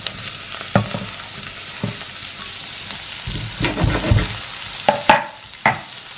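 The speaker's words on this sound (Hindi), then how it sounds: "घी को मैंने गरम कर लिया। इधर मैंने ग्रीन प्याज, ग्रीन चिल्ली और लहसुन डाली। इसको हम भूनते हैं।" Onion, green chilli and garlic fry in hot ghee with a continuous crackling sizzle, broken by louder clatters and scraping stirs toward the end, close up with no talking.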